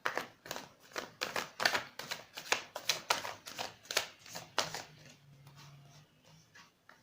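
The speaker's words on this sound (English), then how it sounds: "now we are going to take two cards" Tarot cards are shuffled in a brisk run of about a dozen crisp, evenly spaced riffling bursts, close and fairly loud, then a softer slide and pause as cards are drawn, with no talking.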